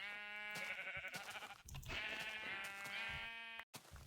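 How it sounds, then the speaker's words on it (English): A sheep in Minecraft gives a long, loud, wavering bleat that continues almost without a break, close and clear, with one short drop partway through and no talk. "I'm gonna kill that sheep"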